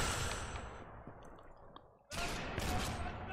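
A rifle shot from Sniper Elite 4 bursts loud and broadband after a quieter stretch of dense game noise, its blast and echo ringing on to the end.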